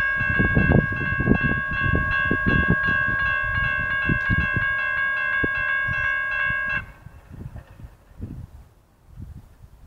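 Freight train Y122 pulling a single boxcar passes northbound, its horn sounding in long sustained multi-tone blasts over rumbling wheels, then the horn stops and the rolling clatter fades.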